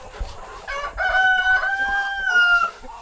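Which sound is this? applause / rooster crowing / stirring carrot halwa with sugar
rooster crowing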